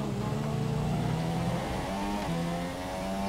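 Formula 1 car engine in the F1 2017 video game, a buzzy whining engine note that steps and shifts in pitch as it runs, moderately quiet with no talk over it.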